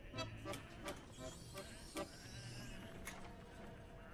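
Sheep bleat in the video game Whateverland. Several faint, short, nasal bleats come at irregular intervals over a quiet background.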